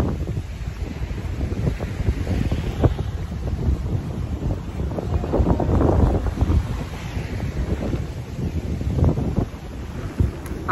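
Quiet early-morning beach on Oahu, Hawaii, with constant wind buffeting the microphone over the soft, rolling wash of ocean waves, no one speaking.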